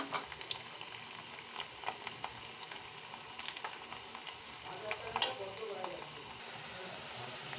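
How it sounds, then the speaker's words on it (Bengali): Potato fingers deep frying in hot oil, a continuous close sizzle with scattered crackles and pops as they are stirred, no voices. "দেখো আমার এগুলো একটু কাঞ্চি করে ভাজা হয়ে গেছে এবার এগুলোকে আমি তুলে নেব"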